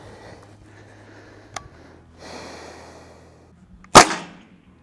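A Hatsan 125 air rifle at 150 atm fires at targets such as a bucket and a foam-filled bottle in a penetration test; quiet handling noises lead up to one sharp, loud crack near the end.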